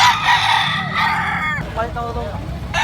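A rooster crows loudly and close, with a second fowl call and clucking right after, over background voices and outdoor noise.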